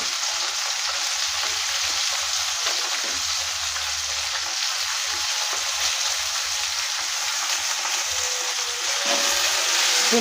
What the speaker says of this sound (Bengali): দেখুন তেলটা গরম হয়ে গেছে এর মধ্যে আমি ভেন্ডিগুলোকে দিয়ে দিচ্ছি